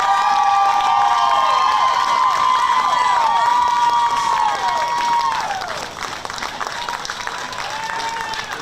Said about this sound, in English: going to leave to a pretty big ovation from this Georgia crowd